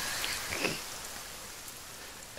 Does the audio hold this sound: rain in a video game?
yes